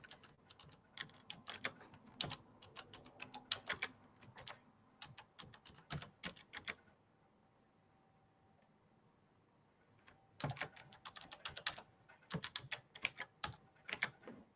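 Quick bursts of typing on a computer keyboard, close and clicky, with a pause of several seconds in the middle before the keystrokes resume, no talking.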